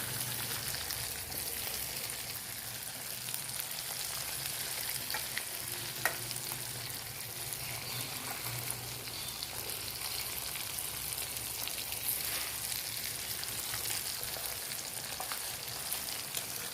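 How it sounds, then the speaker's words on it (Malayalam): Varaal fish frying in a pan gives off a steady, dense sizzle and crackle that carries on evenly throughout, fairly close and with no talking. "നമ്മുടെ മീൻ നന്നായിട്ട് മൂത്തിട്ടുണ്ട്"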